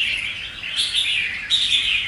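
Close, loud song from a caged red-whiskered bulbul: bright repeated warbled phrases in quick bursts, heard alone without speech.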